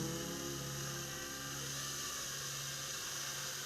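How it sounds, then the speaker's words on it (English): Power drill boring out the rivet on a Matchbox 37C cattle truck during a custom restoration, a steady close whine holding continuously throughout with no talking. "Drilling this out."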